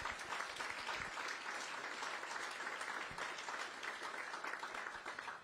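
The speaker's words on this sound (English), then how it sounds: "Another round of applause for Kelly." An audience at a regional economic alliance launch event applauds steadily, a continuous wash of many hands clapping at moderate distance that tapers off at the end.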